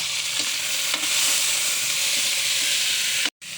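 Garlic, ginger and tomato sizzling in a frying pan for pork liver adobo, a constant bright frying hiss with faint stirring taps, broken by a brief drop to silence near the end.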